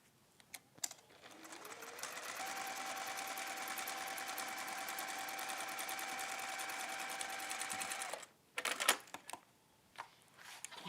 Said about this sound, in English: So just top stitching across here.